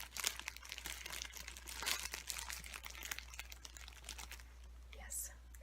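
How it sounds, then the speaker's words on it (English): A plastic bag is crinkled close up in a quiet, soft-spoken ASMR setting, giving a steady stream of crisp crackling and rustling for several seconds. Faint whispering sits underneath. "It was a bag crinkling."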